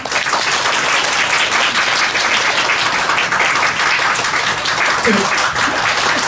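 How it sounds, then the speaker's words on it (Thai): Press members applaud at a Bangkok press conference for the 2023 (G)I-DLE world tour, a dense, steady wash of clapping from a crowded room that holds evenly loud for the whole stretch. "ขอลองฟังเสียงปรบมือหน่อยได้ไหมฮะ"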